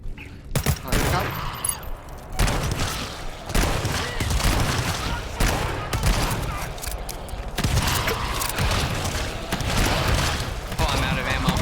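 Rapid video-game gunfire fills the whole stretch, with dense, loud bursts and volleys that barely pause, rising into heavier blasts and booms.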